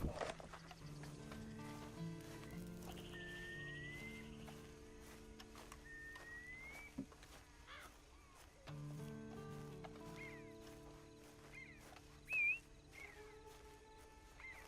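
Horse hooves clip-clop steadily at a walking pace in the Red Dead Redemption 2 video game, set under a continuous musical score, with occasional whistles and a brief louder accent near the end.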